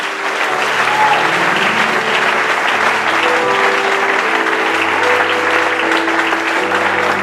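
A church congregation applauds during a French-language worship service, a dense, steady wall of clapping that fills the whole stretch at close range and stays loud throughout.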